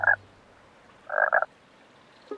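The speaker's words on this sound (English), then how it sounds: "Croak. Thanks, little green frog." A green frog gives two short, loud croaks about a second apart, the second one a longer rasping call, close by with no talking.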